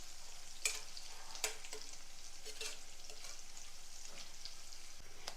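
Green chillies fry in oil in a pan with a steady, bright sizzle, broken by a few sharp scrapes and taps of stirring; no voices.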